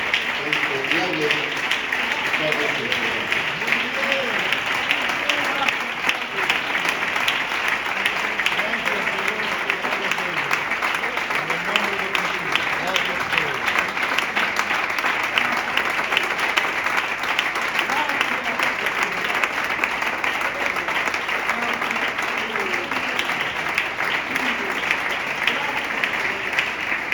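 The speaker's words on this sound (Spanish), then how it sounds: "Pónganse en pie, hermanos, y hagan un aplauso como reconocimiento de esta labor encomiable." Church congregation standing and applauding together, a steady, dense wash of clapping that holds evenly throughout, with some voices mixed in beneath the applause.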